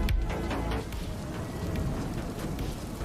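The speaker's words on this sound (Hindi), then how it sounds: "और अब मुझे चाहिए रेनिंग का साउंड इफेक्ट।" An AI-generated rain sound effect: a dense, continuous hiss of falling rain, steady and fairly loud, with no other sounds over it.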